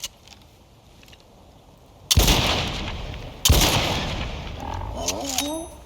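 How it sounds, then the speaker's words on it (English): Two heavy, booming anti-materiel rifle shots ring out in the game Icarus, each a sharp loud blast with a long rumbling tail, spaced about a second apart, followed by a faint voice-like warble. "Anti-material rifle for the win. 4 shots was that?"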